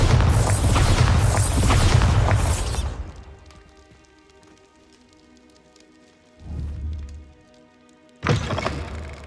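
Spells explode in a Harry Potter game, heard as a loud rushing blast that fades into quiet, then a short thump and a final burst of noise, with no speech.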